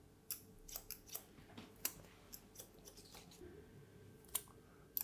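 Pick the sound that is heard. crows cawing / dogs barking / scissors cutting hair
scissors cutting hair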